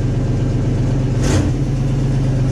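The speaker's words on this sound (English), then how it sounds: "It doesn't sound too bad for not running in a while having an exhaust leak" A Chevy K5 pickup engine with an exhaust leak idles loudly with a rough, throbbing rumble, briefly rising in a short rev partway through, on first start after sitting unused.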